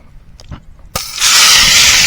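Beef hitting a hot pan on an old Trangia camping stove, with a sharp clank, then a loud, steady sizzle that builds and holds, close by.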